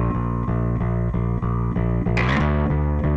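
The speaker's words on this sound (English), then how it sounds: "And one printed with the rat pedal distortion." A distorted electric bass through a Rat distortion pedal plays a steady repeating riff of even notes, gritty and thick, with a brighter, fizzier passage near the end before cutting off.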